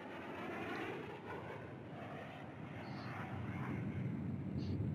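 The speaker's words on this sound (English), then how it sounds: "So here we've got the F9F Panthers." Steady broadband roar of an F9F Panther jet in flight in Microsoft Flight Simulator X, a constant rushing engine drone that swells slightly toward the end, with no voices over it.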